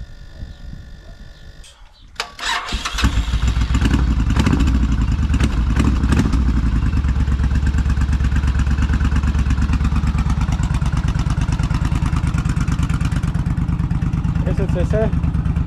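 A motorcycle whose blocked fuel tap has just been fixed kicks into life after a couple of seconds, then idles loud and close in a steady rumble for the rest of the clip, with brief clatter near the start.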